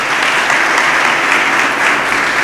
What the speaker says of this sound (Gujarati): એ ભરાઈ જશે એવી એને તાળીઓથી શુભેચ્છા આપીએ